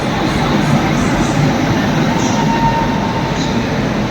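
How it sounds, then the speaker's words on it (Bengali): The Ranchi to New Delhi Garib Rath pulls into Kanpur Central with a loud, continuous rumble of wheels and carriages, heard close from a neighbouring train on the platform. "আর এদিকে এখন ঢুকছে কানপুর সেন্ট্রালের গরিব রথ"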